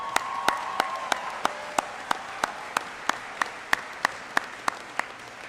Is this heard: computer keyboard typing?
no